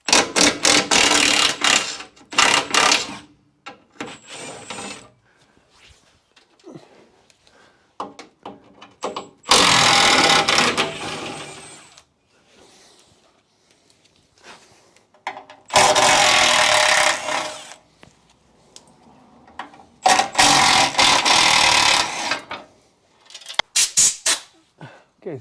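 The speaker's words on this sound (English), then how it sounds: "First, I'm going to remove this skid plate. It's got 4 13mm bolts." Four separate loud bursts from a power tool, likely an impact driver, as the 13mm bolts come off the skid plate of a RAM 1500, each whirring run followed by quiet pauses.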